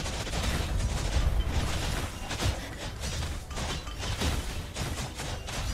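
Dense, continuous rapid-fire shooting from a piercing ability in the action game Realm of Ink, with loud crackling bursts and impacts overlapping without pause throughout.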